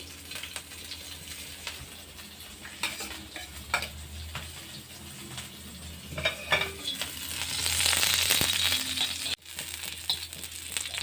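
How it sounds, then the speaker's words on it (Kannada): Fenugreek leaves frying in a little oil are stirred in a pan, with a soft sizzle under repeated scraping and tapping of the spoon that builds into a louder hiss toward the end. "ಇದಕ್ಕೆ ಸ್ವಲ್ಪ ಎಣ್ಣೆ ಹಾಕೋಬೇಕು, ಹುರಿಬೇಕು."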